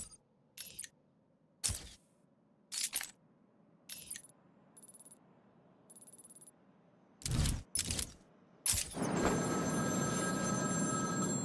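A telephone rings in the Batman Arkham City video game, sounding as repeated short bursts of ringing separated by pauses. The rings come close and clear, followed by a sudden louder rush of game noise.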